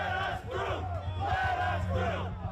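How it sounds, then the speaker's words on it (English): A large crowd shouting and chanting in rising waves at the outdoor Save America rally on the eve of January 6th, loud, dense and sustained. "Trump allies Roger Stone and Alex Jones rile up the crowd on the eve of Trump's speech at the Save America rally"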